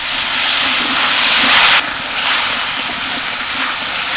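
Water poured into frying chili and spice paste in a pan for chickpea ghugni sizzles in a loud, harsh hiss that cuts down abruptly after a moment and keeps simmering more softly.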